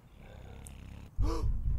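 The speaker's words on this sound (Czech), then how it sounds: "Já slyším chrápání. On spí tady?" A sleeping neighbor snores in the video game Hello Neighbor, one loud, close, low rasping snore that starts abruptly after a quieter stretch.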